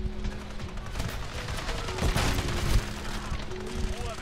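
Rapid gunfire in Call of Duty: Modern Warfare 3 multiplayer, a continuous dense fusillade of automatic shots under game sounds, with heavier booms toward the middle and end.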